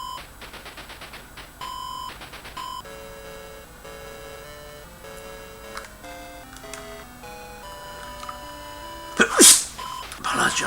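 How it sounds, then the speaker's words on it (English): A single sharp, loud sneeze bursts out near the end, cutting over chirpy beeping chiptune music from a ColecoVision shoot 'em up game that plays throughout. "Apologise, sneeze"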